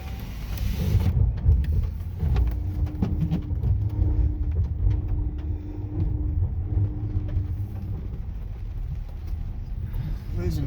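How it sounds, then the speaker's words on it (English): An all-wheel drive truck climbs a rough, wet, washed-out uphill road, its engine rumbling steadily and close with a low droning hum as the wheels lose traction, while a voice speaks intermittently over it. "Losing traction there for all-wheel drive, and traction controller wasn't wanting to go nowhere."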